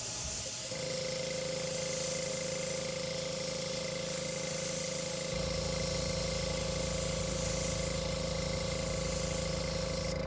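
A spray gun hisses steadily while white paint is applied to a Harlequin duck decoy. The hiss is loud and continuous, and a low mechanical rumble joins it about halfway through.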